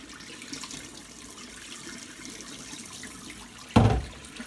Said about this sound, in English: And put it under the cold tap.